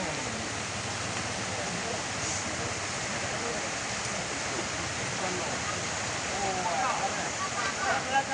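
Water rushing steadily along a channel, a constant full wash of flow close by that holds its level throughout.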